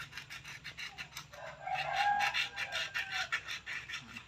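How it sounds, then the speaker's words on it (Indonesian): Rhythmic rasping strokes of sandpaper rubbing against copper wire in a voltage stabilizer, quiet and close, repeating at a quick even pace. "Kita bersihkan pakai amplas selayang saja"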